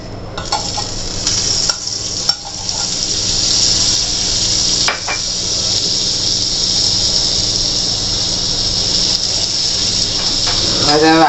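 Butter sizzling on a hot tawa while roti roasts for a frankie wrap: a loud, steady crackling fry with occasional scraping taps, carrying on for several seconds, with a faint squeal near the end.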